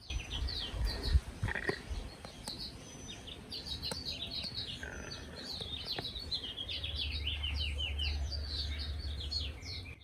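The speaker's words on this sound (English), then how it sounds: "You hear the bird chirping?" Many small birds chirp and tweet in quick repeated bursts around blueberry bushes in spring, moderately close, over a low rumbling background.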